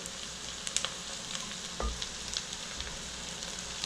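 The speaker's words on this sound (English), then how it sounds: "at this stage we are going to add the pumpkin leaf which we have chopped little by little" Chopped pumpkin leaves frying in a pan, a steady close sizzle with scattered crackles and a few stirring knocks against the pan; no speech.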